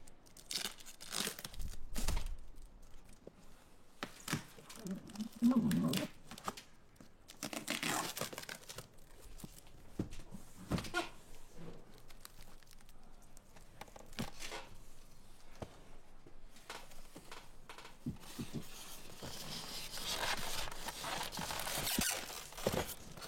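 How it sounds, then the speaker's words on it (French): Cardboard and plastic packaging of a Kukirin C1 Pro folding electric scooter being torn open and crumpled, with repeated close rips, crinkles and rustles running throughout, some louder tearing bursts near the start and a steady crackle toward the end. "on va vous déballer ça tout de suite"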